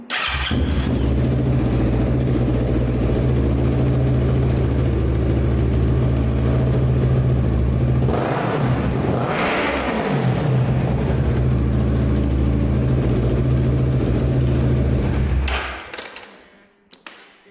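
A Kawasaki Z650 motorcycle engine with a deep, throaty aftermarket exhaust rumbles steadily and loud, dips briefly midway, then cuts off near the end.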